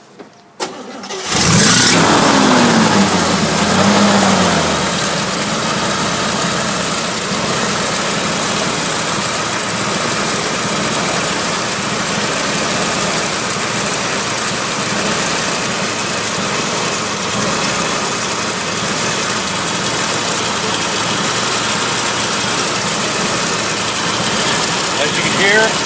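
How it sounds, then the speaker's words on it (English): A 1961 Willys CJ5 Jeep with a manual choke cranks briefly, catches and starts, then settles into a steady, slightly high idle that runs loud and close without clicking or knocking for the rest of the stretch. "It's idling. I got the idle set a little bit higher than normal"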